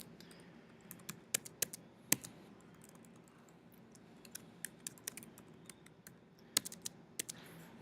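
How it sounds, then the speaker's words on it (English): Class names being typed on a computer keyboard, soft irregular key clicks in short bursts with pauses, fairly quiet and close, no talking. "I'm going to go ahead and type in some of my class."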